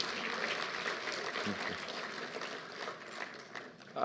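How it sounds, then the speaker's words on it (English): A plenary audience at a Department of Education lekgotla applauds, a faint, continuous patter of many hands heard from a distance, holding fairly even before a slight swell at the end. "give yourselves a better big hand of applause"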